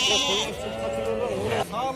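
Lambs bleat at a Kurshab livestock market, wavering cries repeated close by over busy background noise, with people talking around them.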